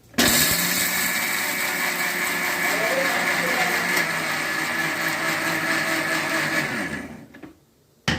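A mixer grinder whirs at high speed as it grinds groundnuts for peanut rice. The steady, loud motor drone runs for about seven seconds and then cuts off abruptly.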